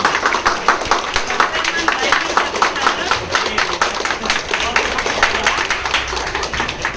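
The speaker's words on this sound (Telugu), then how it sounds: "ఆ తర్వాత నాకు చిన్నగా చప్పట్లు పట్టండి" A church audience claps lightly and steadily at a candlelight song and skit introduction, a dense patter of many hands running throughout at moderate level.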